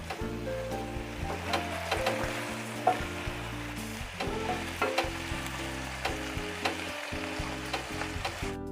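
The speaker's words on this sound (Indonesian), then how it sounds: "Saya aduk-aduk sampai tercampur rata dan sampai bumbunya ini meresap ya." Fried salted klotok fish being stirred through a spiced stir-fry, a loud continuous sizzle with busy spatula scrapes and clanks against the pan throughout, no voices.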